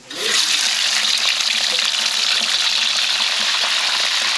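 Eels drop into hot oil and burst at once into a loud, dense, continuous frying hiss that holds steady throughout.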